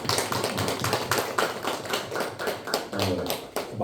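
A church congregation claps together in a burst of applause during a Sunday worship service, dense overlapping hand claps filling the room, steady and fairly loud throughout.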